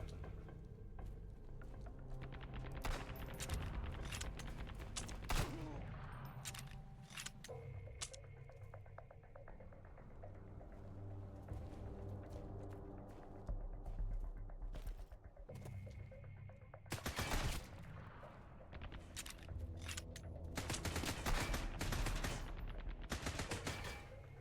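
Sustained automatic gunfire rattles almost nonstop in the Sunkenland video game, with heavier, louder volleys breaking through near the middle and end.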